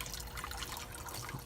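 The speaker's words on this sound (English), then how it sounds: "So all this water gets pumped out" Water pumped out of a catfish pond in a backyard aquaponic system makes a faint, quiet trickle and splash, a brief, soft, continuous liquid sound.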